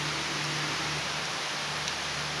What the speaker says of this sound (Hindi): अब हो गई है काफ़ी तेज़ बारिश स्टार्ट